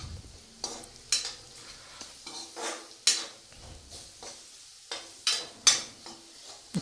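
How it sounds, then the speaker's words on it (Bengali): Spiced vegetables with salt, turmeric and cumin powder stirred in a frying pan, a steady soft sizzle under repeated scraping clinks of a spoon against the pan. "একটু নাড়িয়ে নেব।"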